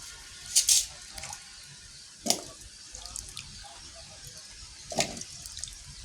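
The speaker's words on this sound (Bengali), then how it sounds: "এবার কুসুম গরম পানিটা সুন্দর করে কচুগুলো ধুয়ে নেবেন" Taro pieces are washed in lukewarm water with soft sloshing and a few brief splashes and drips, quiet and close.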